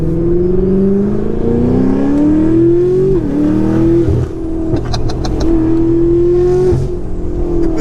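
A tuned 1356 bhp BMW M5 F90 with a twin-turbo V8, revved hard nearby: a loud rising engine drone climbs, dips with a brief turbo flutter, then climbs again, close and dominant.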